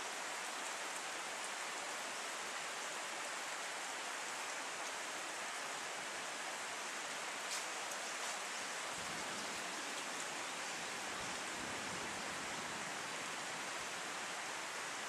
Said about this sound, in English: The rain's eased off a little bit at the moment.